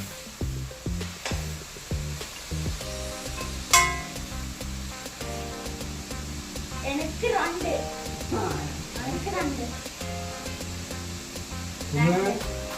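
Chicken pieces frying for a chicken roast, a steady loud sizzle in a pan with occasional stirring scrapes, a voice speaking over it now and then.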